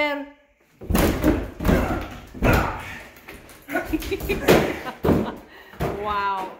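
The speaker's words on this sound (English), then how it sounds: "Talk about manhandling the door." A door is roughly forced and slammed during a messy house clear-out, with several heavy bangs and thuds in an uneven sequence, close and loud, and voices briefly at the start and end.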